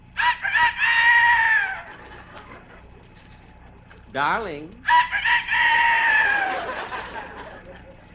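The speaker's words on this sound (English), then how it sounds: "No, that's the rooster. It's morning." A rooster crows loudly and close, two long drawn-out crows separated by a brief human voice in the middle.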